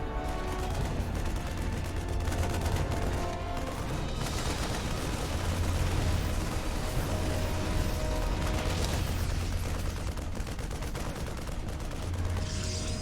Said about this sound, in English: The Widowmine shots continue as 2 more will go down